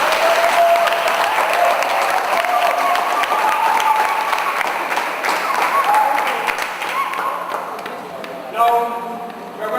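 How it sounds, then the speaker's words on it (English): Applause from a large gathered audience at a camp induction ceremony, sustained and steady, with voices and whistles mixed in. Clapping eases partway through, then swells briefly before a short burst of crowd noise. "I want to ask you to give yourselves a round of applause"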